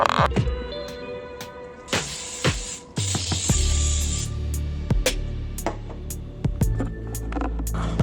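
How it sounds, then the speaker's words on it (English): A few short hissing bursts of bacon-flavored cooking spray onto a pan, close up, amid clattering and scraping kitchen noises; no voices. "spray your pan with some bacon spray"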